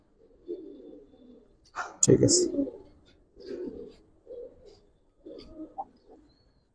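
Giribaz pigeons coo in soft, low bursts close by, mixed with a brief flutter and a spoken voice.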